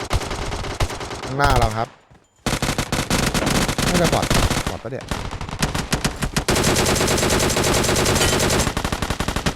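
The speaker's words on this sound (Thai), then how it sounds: "ไปเสียงปืนนะ" Dense automatic and single gunfire from the video game PUBG Mobile crackles loudly and almost without pause, with a brief gap, while players talk over the shots.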